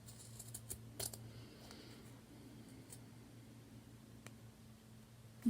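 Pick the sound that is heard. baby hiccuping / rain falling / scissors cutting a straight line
scissors cutting a straight line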